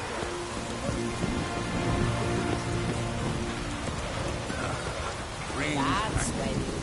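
Steady rain hiss with scattered drops falls across a stormy scene in The Witcher 3, running continuously under spoken game dialogue and a low musical drone.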